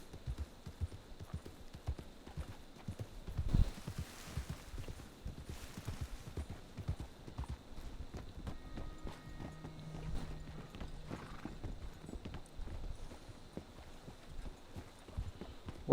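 Video game horse hooves clip-clop at a steady trot over a constant background, with a sharp knock partway through and occasional faint tones; no talking.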